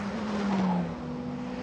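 Formula Regional European Championship race cars pass through the first sector at Paul Ricard circuit during qualifying, a loud engine tone sweeping down in pitch as a car goes by, then a steady drone of following cars.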